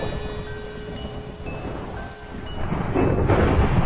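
Thunder rolls over a background of rain during a sudden storm around a house, swelling from a low rumble into a louder, fuller roar toward the end.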